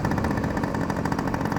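A Yamaha RX100 two-stroke motorcycle idles close by, a steady rapid popping throb that stays loud and even throughout without anyone speaking.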